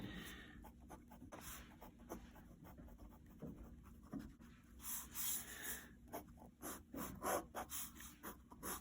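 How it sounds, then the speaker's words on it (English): Pencil sketching small thumbnail drawings on paper, a soft scratchy rubbing of graphite in short irregular strokes, quiet and close with faint breathing and rustling between strokes. "Here is an example of some thumbnail sketching."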